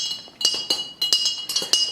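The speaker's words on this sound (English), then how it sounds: "So we're just going to stir this to combine." A spoon clinks rhythmically against a mug while stirring mocha mug cake batter, bright close metallic taps repeating in quick irregular bursts.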